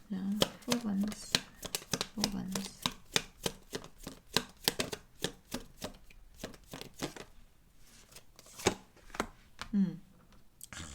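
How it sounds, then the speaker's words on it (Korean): Tarot cards shuffled and drawn in quick rhythmic riffles and soft slaps, continuing steadily under a speaking voice. "제가 추가 카드 한 장만 뽑을게요"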